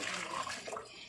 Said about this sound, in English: wash your vegetables, wash your fruits, rinse them off.